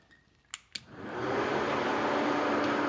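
An electric radiator fan on a truck spins up after a couple of sharp switch clicks, settling into a loud, steady whooshing roar of moving air close by.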